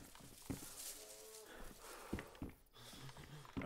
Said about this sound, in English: I hear a cow